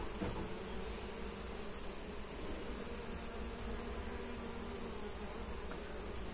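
Bees hum in a low, continuous drone heard from inside a house near a blooming mustard field, faint and steady with no voices over it.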